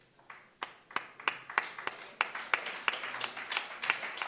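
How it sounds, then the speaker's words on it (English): Sparse clapping at a poetry circle evening grows into a faint round of applause for the poets, with sharp individual claps early on thickening into a rhythmic patter. "let us give them all a thunderous"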